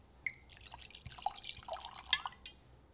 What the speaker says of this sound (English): Pour in a quarter cup of dry white wine.